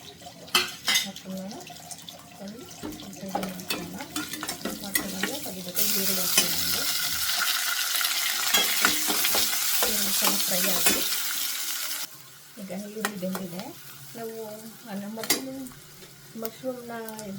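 Mushrooms and spices fry in a pan while being stirred, giving a steady sizzle with clinks and scrapes of a utensil against the pan, and someone speaks over the cooking at times.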